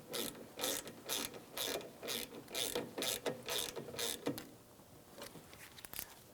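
A ratchet tightens a rear brake caliper slider bolt on a 2007-2017 Jeep Compass, giving about ten quick bursts of close metallic clicking before falling quiet, with no talk.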